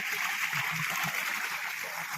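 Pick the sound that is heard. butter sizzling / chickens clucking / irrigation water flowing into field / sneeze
irrigation water flowing into field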